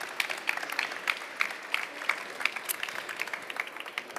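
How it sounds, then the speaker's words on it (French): A conference audience at a French building and urban-resilience talk event applauds. A short burst of dense, crisp clapping from a moderate-sized crowd lasts about four seconds. "On peut vous applaudir."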